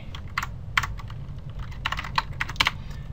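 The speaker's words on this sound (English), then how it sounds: "So we just type that first" Code is typed on a computer keyboard in short irregular bursts of crisp, close key clicks with brief pauses between them, and no voices are heard.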